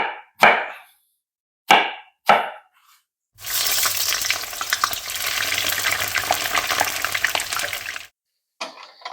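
Cubed eggplant fries and is stirred in a pan, a loud continuous sizzle lasting several seconds, set between a few sharp knocks before and a short clatter after.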